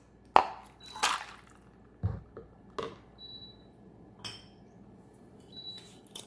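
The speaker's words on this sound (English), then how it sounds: "You dump the ice." Ice dumped out of a chilled martini glass: several separate clinks and clunks of ice cubes knocking against glass, scattered over a few seconds, close by and moderately quiet, with no speech.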